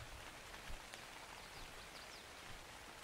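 Steady rain falls in the ARK: Survival Evolved game world, a dense continuous hiss of drops with small scattered patters, fairly faint and without voices.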